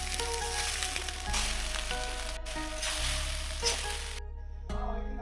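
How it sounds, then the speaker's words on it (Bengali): Rice with mixed vegetables including carrot fried and stirred in a kadai, giving a steady close sizzle with soft scraping stirs and no voices. "এবার ভাতটা অল্প করে নেড়ে চেড়ে ভেজে নেব।"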